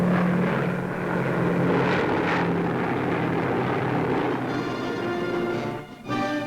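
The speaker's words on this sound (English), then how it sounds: "B-29 super fortresses in repeated blows slashed deeper into Japan's empire." World War II B-29 Superfortress bomber engines drone in a continuous, loud propeller roar, rising and falling slightly, with a sudden dip near the end.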